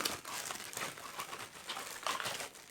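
A transparent plastic bag holding vacuum cleaner attachments crinkles and rustles continuously at close range in uneven bursts, with no voices.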